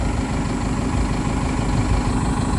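A 4x4 tractor sits stuck in mud with its rear end sunk in, the engine running in a constant heavy, low rumble close by with no break.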